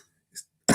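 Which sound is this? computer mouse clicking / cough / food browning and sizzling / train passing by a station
cough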